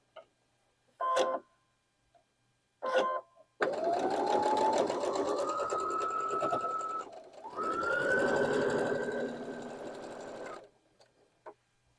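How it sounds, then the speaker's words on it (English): A sewing machine stitches a quilt block, running steadily for several seconds with a brief pause and restart, framed by a few isolated clicks and thumps before and after. "So let's take this to the sewing machine."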